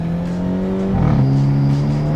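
A Hyundai Elantra N engine drones and shifts pitch under a whooshing intake, with a brief airy blow-off valve release midway, loud and close with no voices.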